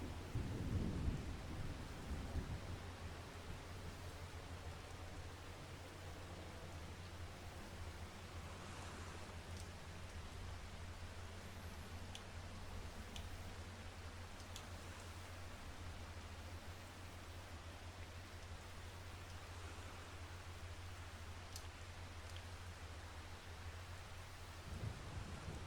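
Steady rain and rolling thunder in Farming Simulator 25, with a rumble near the start and again at the end over a constant hiss of rainfall.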